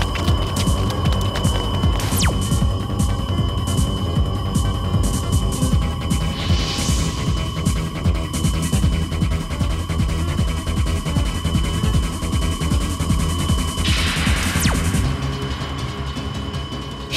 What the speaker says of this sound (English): Ripping a hole in the dimensional fabric.